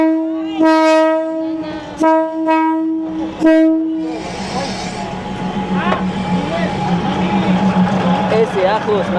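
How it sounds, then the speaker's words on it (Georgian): A train in Bangkok sounds several loud, separate horn blasts as it approaches, then roars past very close with a heavy, rattling rumble. People talk nearby. "როგორც ჩანს მატარებელი გვიახლოვდება"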